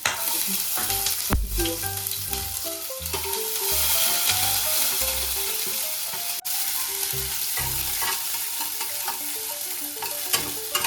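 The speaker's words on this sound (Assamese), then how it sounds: "তেলখিনি গৰম হৈ গ'ল, এতিয়া গাজৰ আৰু বিনখিনি দি দিম।" Carrots and beans fry in hot oil for a spicy Maggi dish, a steady loud sizzle broken by repeated stirring scrapes and knocks of a spatula in the pan, with no talking.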